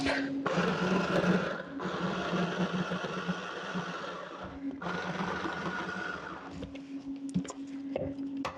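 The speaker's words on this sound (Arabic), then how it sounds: "وبعدين هحط عندي التوابل كلها أهي مرة واحدة. خلاص ابتدي اضرب." A blender grinding onion, red meat and spices for Egyptian hawawshi, a steady motor whir with chunky churning that stops briefly and restarts, the motor pitch shifting as the large onion pieces resist.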